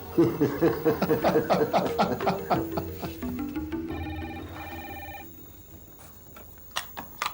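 A telephone rings in a household drama scene, with a run of repeated electronic ring tones and melodic chimes that fade out, followed by a few faint clicks.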